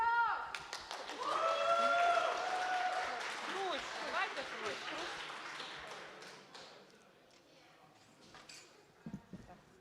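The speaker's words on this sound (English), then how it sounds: "Please welcome. I'm passing the microphone. Applause." Audience applause at a United with Ukraine game jam winners event, a burst of clapping that builds quickly, then thins and fades out into scattered claps, with voices speaking underneath.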